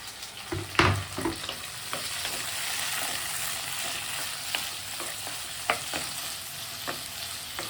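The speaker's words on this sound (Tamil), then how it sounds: "இப்போ சின்ன வெங்காயம் நல்லா வதங்கிடுச்சு இனி தக்காளி போடலாம்" Small onions and tomatoes sauté in hot oil for an urundai kuzhambu, giving a continuous close sizzle broken by scattered clinks and scrapes of a stirring spoon, with no talking.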